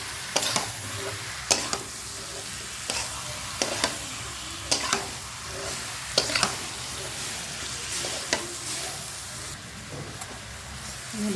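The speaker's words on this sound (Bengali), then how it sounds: "নাড়তে থাকবো।" Duck meat frying with salt and turmeric while being stirred in a pan, a continuous sizzle broken by repeated clanks and scrapes of the spoon every second or two, close and without speech.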